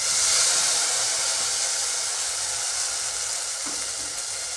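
Ground tomato paste hits onions frying in a pan, giving a loud, steady sizzle and hiss that slowly eases, with no talk over it.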